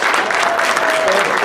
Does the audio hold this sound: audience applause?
yes